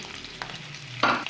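Green and red chillies, curry leaves and ginger slices dropped into hot oil for a tadka, a soft sizzle with light stirring and a louder burst of frying near the end.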